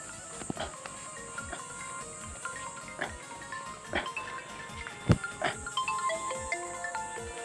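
A phone ringtone plays a repeating electronic melody with steady rhythmic beats, fairly quiet, with no talking.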